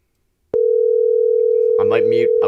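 An outgoing phone call produces a steady, continuous electronic line tone that starts abruptly and holds loud and clear, with a voice talking over it toward the end.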